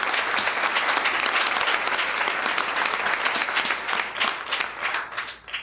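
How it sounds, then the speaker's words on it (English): A crowd at a business panel discussion on crisis management applauds the moderator with steady, full clapping. It keeps going for several seconds and thins slightly toward the end. "a special round of applause for our moderator"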